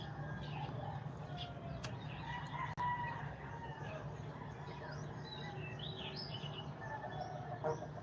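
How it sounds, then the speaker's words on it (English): A rooster crows outdoors among other birds, whose scattered chirps and calls rise faintly above a steady low background hum, with one brief sharp knock partway through. "I hear three different types of birds. One's a rooster, and there are two different bird species I could hear right now."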